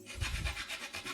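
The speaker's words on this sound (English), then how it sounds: "It's only a little bit of wood, so I only need a little saw, and I can do it right here." A small hand saw cuts a small piece of timber in quick rasping strokes, a close, quiet rhythmic rubbing of about five passes.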